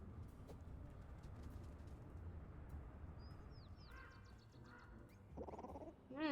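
Birds calling close to a cat in the game Little Kitty, Big City, a few chirpy cawing and cooing calls over a soft steady background hum, growing louder near the end.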